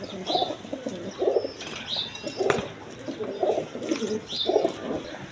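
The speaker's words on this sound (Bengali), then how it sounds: "দেখেন একদম কোয়ালিটি সম্পন্ন কবুতর, হাই ফ্লাইং গিরিবাস কবুতর।" High-flying Giribaz pigeons cooing in a loft, repeated soft throaty coos in a steady rhythm with a few chirps and faint wing sounds, close by, no voices.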